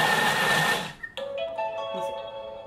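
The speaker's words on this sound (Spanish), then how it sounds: "Está picando, lo que está haciendo es picándolo ahora." A Thermomix chops ingredients for pescado a la veracruzana at speed 5, giving a loud, steady whirring grind for about a second. It then cuts off and is followed by a short series of clear electronic beeps.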